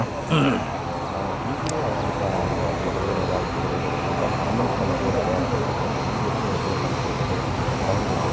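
An IndiGo passenger airplane passes overhead in open country beside fields, its engine drone a loud, steady roar that fills the whole stretch without fading.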